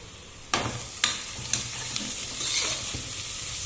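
Chicken marinated in turmeric, yogurt, garam masala and ginger-garlic paste sizzles and fries in a pan as coriander powder is stirred in. A steady sizzle runs throughout, broken by several sharp scraping clacks of the spoon.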